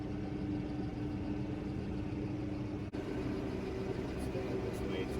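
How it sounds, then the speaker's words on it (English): A tractor engine drones steadily as it rolls downhill on an easy ride, a constant low rumble with no breaks that stays fairly quiet and close. "Just going on a nice, easy ride in the tractor."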